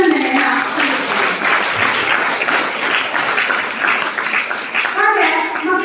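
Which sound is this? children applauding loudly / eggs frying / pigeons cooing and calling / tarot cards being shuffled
children applauding loudly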